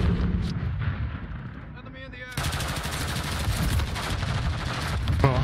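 Heavy, sustained gunfire and explosive bursts from a Call of Duty: Modern Warfare 3 match form a loud, dense continuous barrage, with a voice talking briefly underneath.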